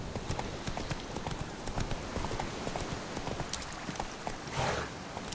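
Horse hooves clip-clopping steadily on the ground in the Witcher 3 video game, a busy continuous trot close by under ambient game sound, with brief voices calling out.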